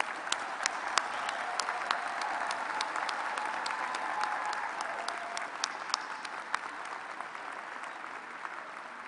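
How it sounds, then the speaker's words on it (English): Steady applause from a large audience at a graduate school commencement ceremony, filling the hall as new doctoral recipients are honored, with a few sharper claps standing out over the dense, even roar. "A round of applause for our new doctoral recipients."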